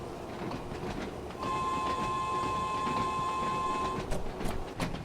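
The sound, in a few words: train accelerating in Train Sim World 2 video game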